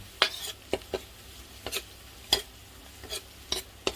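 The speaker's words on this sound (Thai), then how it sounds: "ผัดให้มันหอม ๆ" Garlic and chilli are stir-fried in oil, with a soft sizzle underneath and about ten sharp metallic spatula scrapes and knocks against the pan at an irregular rhythm.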